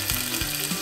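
Yellow and red onions sweat with salt in a pan for sofrito, a steady close sizzle and crackle filling the short moment without any talk.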